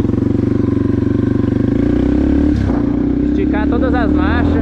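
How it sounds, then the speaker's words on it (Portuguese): A Yamaha TTR 230 motorcycle engine idles with a rapid, throbbing chug, then is revved up as it warms, loud and close, while someone talks over it. "Mas vamos dar uma esquentada no motor"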